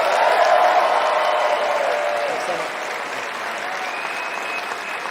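A livestream studio audience applauds steadily, a loud, dense wash of clapping that eases slightly partway through, with no voices standing out.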